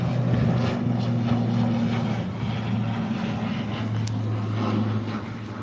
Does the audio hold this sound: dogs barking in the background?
no